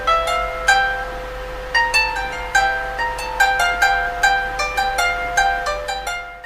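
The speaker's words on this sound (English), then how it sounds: "the valiha, which is a bamboo tube that has many attached strings." A Malagasy valiha, a bamboo tube zither strung with many strings, is plucked alone in a lively run of bright ringing notes, each attack decaying quickly, close and clear.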